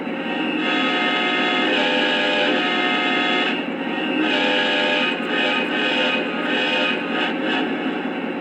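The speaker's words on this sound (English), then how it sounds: "Really good sounding horn." A sustained, buzzy multi-tone horn from a Lionel Alaska GP38-2 model diesel locomotive blares steadily for several seconds, with slight dips and flutters, loud and close with no talking.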